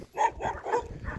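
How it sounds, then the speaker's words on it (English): Dogs on a farm let out several quick, close barks and yips in an uneven burst, loud and bright with short gaps between them. "We got some more dogs up here."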